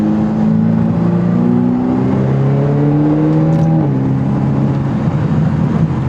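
A Ferrari engine revs hard in steady rising pulls, drops pitch through a gear change partway through, then settles into a rougher note with faint crackles and pops, loud and close with no talking.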